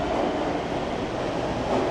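A train on the Han line passes by at a station, giving a loud, steady rolling rumble with rail clatter that holds for the whole stretch.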